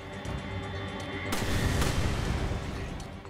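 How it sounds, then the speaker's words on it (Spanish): Explosions and gunfire in the Resident Evil 5 HD video game, a dense burst of heavy blasts that swells loudly around the middle with rumbling low end and crackling debris. "¡Cómo mueven las explosiones!"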